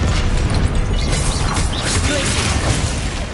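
Confringo fire blast spell explosions from Hogwarts Legacy combat, a dense continuous roar of crackling, rumbling blasts and mechanical clatter, loud and close with no clear pauses.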